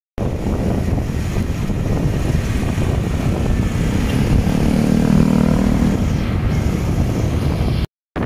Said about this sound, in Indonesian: Grab motor hari ni. Guys, ini Grab motor